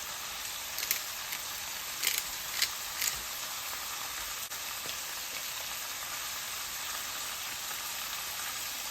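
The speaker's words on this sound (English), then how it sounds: "You really kind of want to sear the chicken before we turn it down on a lower setting." Steady crackling sizzle of chicken thighs searing in a hot pan, constant and fairly quiet, with a few brief clinks of utensils.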